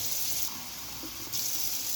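Tap water runs steadily into a pot for cooking white rice for Jamaican stew peas, a continuous close splashing gush that briefly changes tone midway as the flow shifts.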